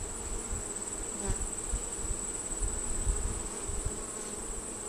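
Honey bees in a hive newly expanded from 5 to 10 frames hum in a dense, steady buzz, with a high whining tone over a low rumbling drone and a few bees passing close.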